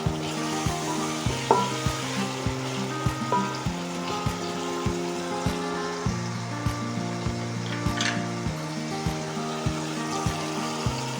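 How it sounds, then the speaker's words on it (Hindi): Masala roasts in a pan for chana pulao with a steady close sizzle, under a rhythmic background of regular thumps and a low repeating hum. "हम मसाला भून रहे हैं"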